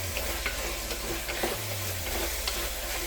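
A spoon stirs salted mutton gravy in a pressure cooker, scraping and clinking softly against the pot over a constant close sizzling bubble.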